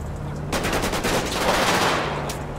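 Video game gunfire aimed at a car, a rapid burst of loud overlapping shots, close and sharp, lasting about two seconds.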